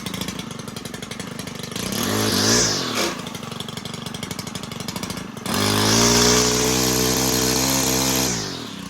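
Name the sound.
STIHL KM110R engine running after carburetor replacement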